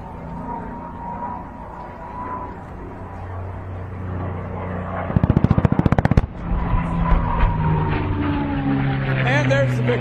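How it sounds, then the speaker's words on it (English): Airshow ground pyrotechnics and an aircraft strafing pass, heard as a rapid burst of sharp pops about a second long over a steady roar of engines and crowd ambience, with an announcer talking throughout. "We'll have Pyro on the ground from Firewalkers Pyro International and a strafe from Mark Peterson"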